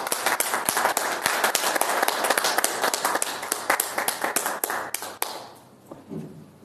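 An audience claps for a town chronicler being introduced at a civic event on the Ecatepec ejido, dense clapping with sharp individual hand claps, steady and fairly close, thinning out and fading near the end.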